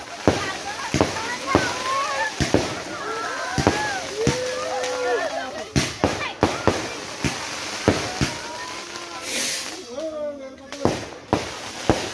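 Repeated sharp fireworks bangs and crackles at a wedding proposal, some near and some distant, irregularly spaced over excited voices chattering and shouting in Filipino throughout.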